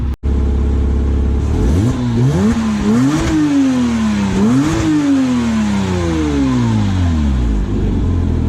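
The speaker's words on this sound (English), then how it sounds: "no video would be good without an exhaust shot, so let me get that for you" A Porsche engine revs repeatedly through loud stock exhaust, rising and falling in several sharp bursts before settling into a long descending drone.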